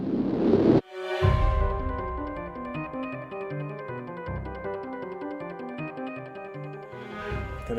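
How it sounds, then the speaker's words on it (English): Orchestral composition with percussion hits, sustained strings and a low drone sound design layer, dense and full throughout after a sharp opening swell, with rhythmic percussive accents recurring beneath the harmonic bed. "Then you've got percussion, you've got some strings and a few other elements,"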